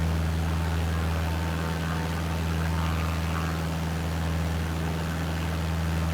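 A Cessna 152 light aircraft engine drones in flight, a loud, constant low hum with strong steady tonal layers and a broad wash of propeller and wind noise, unchanging for the whole stretch.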